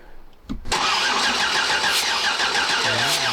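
A freshly built 6.8-litre LS3 stroker V8 fires for the first time: a brief cranking whine, then a sudden catch into a loud, steady, rumbling idle up close.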